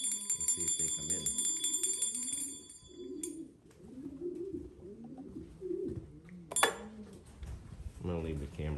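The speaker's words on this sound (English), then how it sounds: "I'm going to train them to come in using the bell." Bell rung outdoors to call racing homing pigeons back to their loft trap, a bright ringing at the start and a sharp strike near 6.5 seconds, with pigeon cooing and someone speaking throughout.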